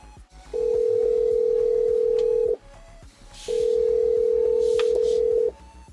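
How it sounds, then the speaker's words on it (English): A telephone call rings through on a line, two long, even ringback tones separated by a short pause, clear and steady with no talk over them. "So let me call them up and see if anybody's here yet."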